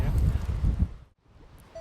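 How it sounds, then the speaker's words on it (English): Gusty wind buffets the microphone in an open colonial field during metal detecting, heavy low rumbling blasts that drop away suddenly into near quiet before picking up again. "it is crazy windy today"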